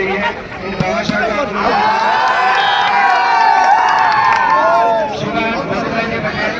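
Crowd at a village volleyball final cheering and shouting, a dense swell of voices rising and holding loud for several seconds before easing off.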